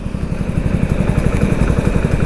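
Hero HF Deluxe 100cc motorcycle engine running, a steady close-up low-pitched thumping putter with rapid regular pulses and a faint whine above.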